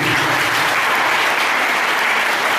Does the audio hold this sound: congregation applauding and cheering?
yes